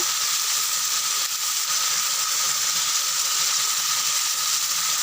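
Chicken frying in a pan over a village cooking fire, a steady, loud, bright sizzle that hisses on without pause.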